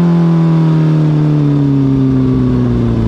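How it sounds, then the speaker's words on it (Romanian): Motorcycle engine held high in the revs during a ride through Bucharest's Unirii underpass, a loud, close, sustained roar whose pitch sags slightly over three seconds, with no talking. "Trebuie să urc tare de tot în ture ca să mai scoatem niște flăcări."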